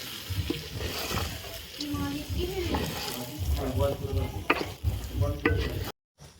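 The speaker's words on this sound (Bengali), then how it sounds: "চালটাকে আমি ভালো করে কষিয়ে নেবো 5 মিনিট ধরে" Rice is fried and stirred in a pot for tehari, giving a steady run of scraping, clattering and sizzling with tonal, voice-like sounds mixed in, then a sudden cut to near silence at the end.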